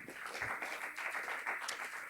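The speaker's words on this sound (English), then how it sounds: "we can have applause for this" An audience at the 2019 City of Laurel candidates forum applauds a councilman with a faint, even patter of many hands clapping, heard from a distance for a couple of seconds.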